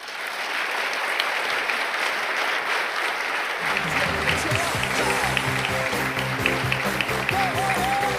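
Audience at a UW-Stout event clapping to welcome two speakers: dense, loud applause that swells after a few seconds and carries on steadily, with a musical tone weaving through the later part.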